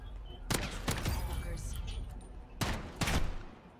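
Gunfire in a first-person shooter video game, with a pair of loud shots early on and another close pair later, heard over players talking on voice chat.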